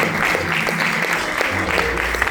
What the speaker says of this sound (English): Let's keep clapping for Prof.